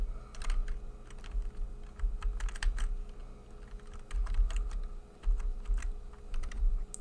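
Rapid computer keyboard typing with irregular bursts of key clicks and clacks during a Phasmophobia gaming session, fairly close and steady, with no talking over it.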